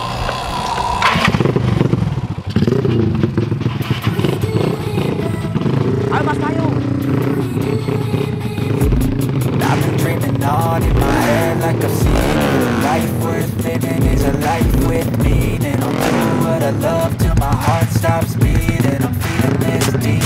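A drag-racing motorcycle engine runs loudly and steadily throughout, with rough revving bursts and low popping pulses in the second half, while people talk over it.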